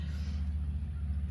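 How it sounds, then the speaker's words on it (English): Steady low rumble of cars passing through a noisy residential neighborhood outdoors, a continuous droning traffic wash with no distinct events or voices. "today my neighborhood is trying to be noisy. All the nature, the cars, what is going on?"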